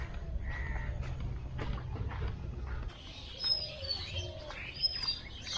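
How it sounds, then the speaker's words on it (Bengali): Birds chirping and calling along a forest trail to a waterfall, several short whistled calls scattered over rustling ambient noise, moderately distant. "পাখির আওয়াজ শুনতেছেন"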